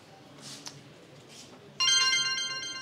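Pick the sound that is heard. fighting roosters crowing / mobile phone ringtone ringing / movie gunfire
mobile phone ringtone ringing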